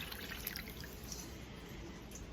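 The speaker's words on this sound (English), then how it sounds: "This is perfect for straining off broth and stuff to get a clear broth" Ham broth straining through a white towel, giving quiet, soft drips and trickles against a faint steady background, with no talk.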